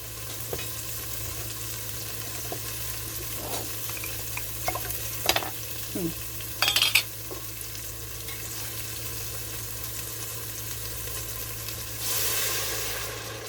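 Home canned bone broth in a pan gives a steady low hiss and sizzle, with a few clinks and scrapes of stirring midway and a brief louder rush near the end.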